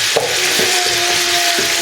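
Onion softening in a cast iron pan, a steady close sizzle with a few light scrapes from a wooden spatula and a faint tonal whine running underneath.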